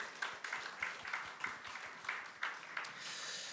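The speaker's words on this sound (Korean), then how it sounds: "우리 큰 박수 전해주시면 감사하겠습니다" A congregation at a church youth worship service claps along during a gift presentation, soft and somewhat distant applause with a loosely rhythmic pattern of hand claps filling the room.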